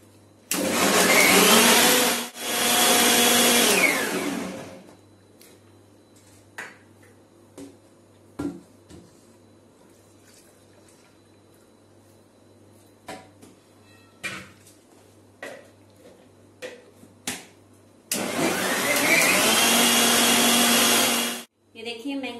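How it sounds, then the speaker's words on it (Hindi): A blender whirs loudly in two bursts while mixing a mango and milk shake, a quiet stretch of small clinks and knocks between, then a third whirring burst near the end. "मिक्सी चलाएंगे"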